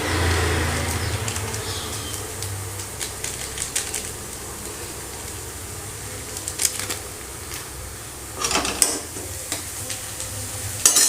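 Potatoes and onions for aloo do pyaza stirred in a pan over lowered heat with turmeric, chili and garam masala, a soft continuous frying hiss with intermittent scraping strokes and a few sharper clatters near the end.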